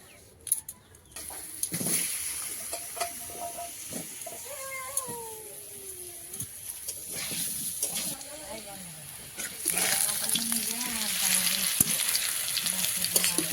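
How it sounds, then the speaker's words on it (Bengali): Potatoes frying in oil left over from frying fish make a soft sizzle that swells much louder in the last few seconds, broken by stirring knocks, while a cat meows several times nearby. "এবার আলুগুলো ভাজবো মাছ ভাজার তেলে"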